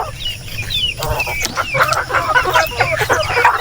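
Native chicken hens clucking close by, a busy run of short choppy clucks and squawks, fairly loud, with no talk.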